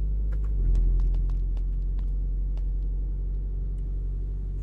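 Car engine idling in a home garage, a steady low rumbling hum close by with a slight swell early on, otherwise even and continuous with faint ticking clicks on top.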